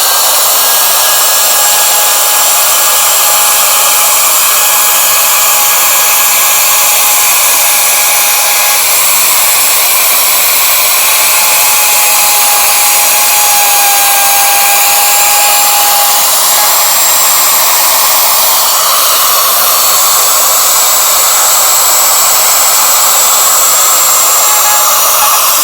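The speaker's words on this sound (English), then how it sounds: "I'll just run my router." A router trims timber stair parts, a loud, continuous high-pitched whirring roar that runs unbroken for nearly half a minute with slight shifts in pitch as the bit cuts.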